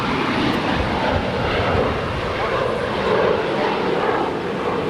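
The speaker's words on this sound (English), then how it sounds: "Here we have Alaska SkyWest Flight 3373 departing to Santa Rosa. It's a 5-year-old Embraer" An Alaska SkyWest Embraer E175LR regional jet departs Los Angeles International Airport, its engines producing a loud, steady broadband roar that holds for the whole stretch with no talk.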